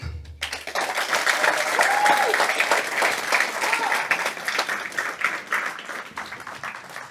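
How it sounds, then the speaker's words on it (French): An audience at a youth political meeting in Nogent-sur-Oise breaks into steady applause that starts abruptly and keeps going, dense and sustained, with faint cheers mixed in. "je vous demande désormais d'applaudir Ikram Quadria."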